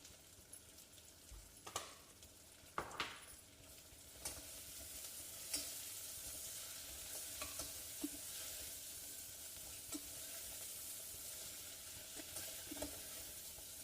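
Turmeric fries in hot oil for a mutton curry, a steady close sizzle broken by a few sharp scrapes and knocks of a spoon stirring the pan.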